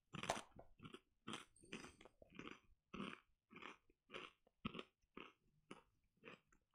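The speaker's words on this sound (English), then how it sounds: "It's very, very crunchy. You can probably hear it." Loud close crunching of a cinnamon-sugar Japanese snack from a Bokksu box, about a dozen distinct chewing bursts in a steady rhythm with no talking over them.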